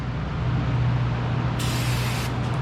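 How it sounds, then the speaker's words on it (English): Aerosol brake cleaner hisses briefly onto both sides of a brand-new brake rotor during a Buick LaCrosse brake job, one steady spray burst of under a second over a constant low background hum. "spray off both sides of the brand new rotor"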